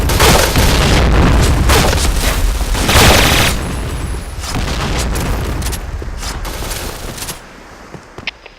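Loud, dense bursts of gunfire and booming blasts from a Point Blank shooter match roll on almost continuously, then thin out to scattered shots near the end.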